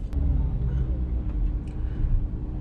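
A 2.4-ton Audi Q7 SUV on the road, heard as a steady low engine and road rumble from inside the cabin with no pauses.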